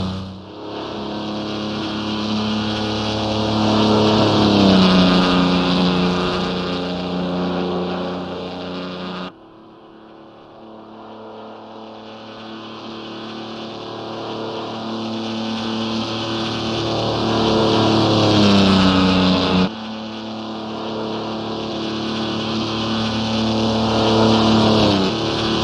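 A Mercedes Transporter van with a four-speed gearbox revs hard on the Nordschleife in Assetto Corsa, its engine climbing loudly toward about 6,000 RPM, cutting off at two gear changes and then pulling up again, with no talking.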